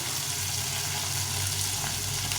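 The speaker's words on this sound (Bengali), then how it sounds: "মাছটা এভাবে একটু লাল লাল করে ভেজে নিতে হবে" Small bata fish fry in hot oil for a fish curry, giving a steady, close crackling sizzle that holds evenly throughout with no voices.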